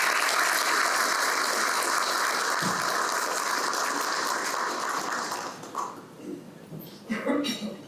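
An audience at a lecture-series event applauds to welcome a speaker, with steady clapping that fades out after about five seconds into a few scattered sounds and room noise.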